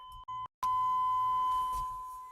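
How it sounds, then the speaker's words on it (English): A pure, steady electronic truck door-open warning tone sounds close by, two short beeps followed by a long continuous beep, with faint rustling underneath. "I don't know why all the doors open. That's why it's beeping."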